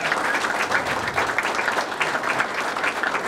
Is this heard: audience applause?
yes